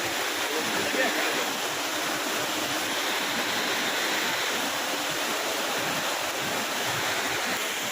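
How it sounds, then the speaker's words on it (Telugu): A waterfall roars as a steady, broadband rush of falling water, loud and continuous throughout, with no distinct voices over it. "వాటర్ ఫాల్ అక్కడ స్టార్ట్ అయింది."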